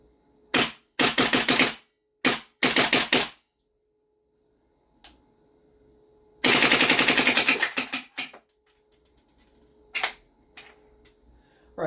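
A GHK AKS-74U gas blowback airsoft rifle fires in sharp bursts of rapid, crisp metallic clacks separated by quiet pauses, with one long burst near the middle and a few short single shots toward the end, close and loud.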